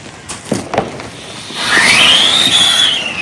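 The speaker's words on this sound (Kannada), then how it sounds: "ಅದು ಕಿಟಕಿ ರಾಕೆಟ್ ಕಳಿಸಿದೀವಿ." A firework rocket launches with a few sharp pops, then a loud rising whistle that arcs upward and fades away over a couple of seconds, heard outdoors with no talk.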